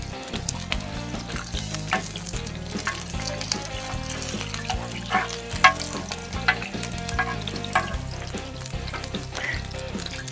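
Meat sizzles steadily on a saj pan set over an open fire, a dense, continuous crackling fry with occasional louder spits and pops throughout.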